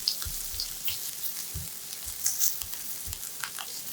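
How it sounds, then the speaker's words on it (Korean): Onions softening in butter and olive oil over medium-low heat, a quiet continuous sizzle with light taps and scrapes of stirring scattered throughout, near and without speech. "양파가 부드러워지고 연한 갈색의 달큰한 향이 올라올 때까지 충분히 볶아주세요."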